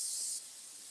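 Cooking spray hisses in one short, close burst of under half a second while salmon is prepared, then a faint room hush remains.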